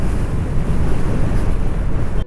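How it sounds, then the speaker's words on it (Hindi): Strong sideways wind sweeps across a mountain road in Gilgit-Baltistan, buffeting the microphone with loud, continuous low roaring gusts and a broad hiss until an abrupt cut at the end. "तेज़ हवाएं चल रही हैं।"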